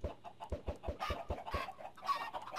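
Minecraft chickens cluck in a survival game, a close run of short, evenly paced clucks that is later joined by brighter, higher game noises.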